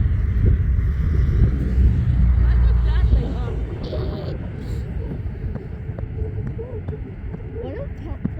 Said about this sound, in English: A320 coming in from Charlotte